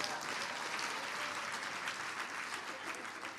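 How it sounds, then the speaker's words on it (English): Steady applause from attendees at a women in transport network's annual general meeting, many hands clapping at an even, moderate level from start to finish. "So let's give her a hand of applause."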